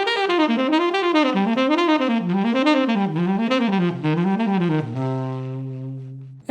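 A guitar plays a pentatonic scale shape, running up and back down in quick, even notes that rise and fall in waves, then settles on a held chord that rings out and fades, played alone without talk.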